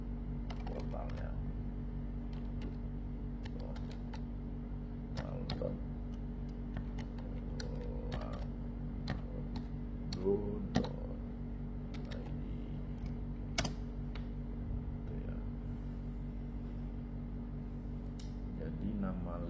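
Quiet keyboard typing as a website address is entered on a PC, with scattered soft key clicks under a low steady hum and a person talking throughout.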